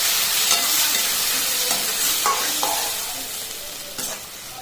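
Snake gourd kootu being mixed in a pan, with repeated close spoon scrapes and light sizzling that gradually fade toward the end.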